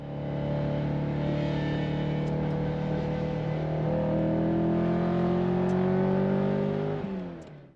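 Ferrari 308 engine misfiring badly while driving, a steady droning hum with uneven, rough harmonics holding at cruise before easing off near the end, heard from inside the car with no talk.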